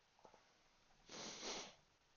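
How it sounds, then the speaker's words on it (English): A person with a cold sniffs, giving a couple of faint short intakes and then one long, loud, close nasal sniff. "Excuse my sniffing and coughing."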